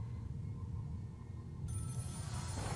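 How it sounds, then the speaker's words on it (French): A telephone in the Scream video game starts ringing partway through, a bright electronic ring that cuts in suddenly over a low, steady ambient rumble and continues to the end. "Il y a un téléphone qui sonne."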